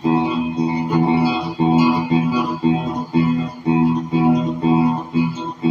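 A distorted electric guitar chugs in a steady repeating rhythm, imitating the clickety-clack of a train, with heavy effects and no talking.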